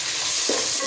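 Onions and tomatoes fry in a pan with a loud, dense hiss, and a brief stirring scrape cuts in partway through. The sizzle is close and short, with no talking.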